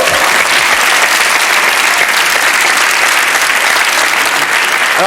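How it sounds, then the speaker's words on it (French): Loud, packed studio applause on a French TV game show, a thick wall of clapping hands held at constant intensity from start to finish. "on l'applaudit"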